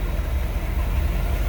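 A 1976 Chevrolet Corvette coupe idling, heard from behind at the exhaust: a steady, subdued low rumble, close and even throughout.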